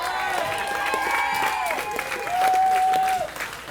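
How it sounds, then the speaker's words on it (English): Wedding guests at a vineyard reception applaud, a dense patter of clapping under overlapping voices and whistles, swelling louder midway before easing off. "Let's give her a round of applause."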